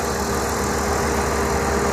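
A caravan handicap-accessible van's engine idles with the hood open, a steady close rumble with a constant mechanical hum and no talk over it.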